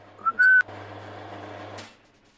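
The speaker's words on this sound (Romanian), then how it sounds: "fluieratul lor." Prisoners whistling in GTA 5 FiveM: two short rising whistled notes, the second held briefly, close and clear, followed by a soft fading hum.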